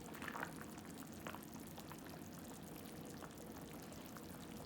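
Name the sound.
beef soup with potatoes, corn, carrots simmering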